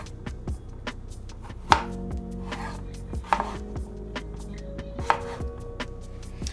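A knife roughly chops radishes on a cutting board, giving irregular sharp thuds against the wood with a few louder strikes, close and clear with no talking.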